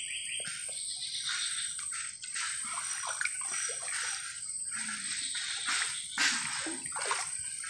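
Running water pours and splashes steadily in a village setting, a close, continuous hissing spatter with small sloshing bursts and no talk over it.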